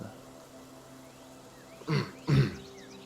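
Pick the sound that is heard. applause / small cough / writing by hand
small cough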